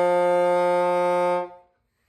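A bassoon holds a single sustained concert F, clear and close, rich in harmonics. The tone is steady for about a second and a half, then fades out quickly into silence.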